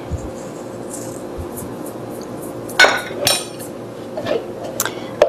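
Vegan cream being mixed with vanilla essence and a pinch of salt in a bowl, with scattered clinks and scraping knocks of a utensil against the bowl at an irregular pace over a steady low background hum.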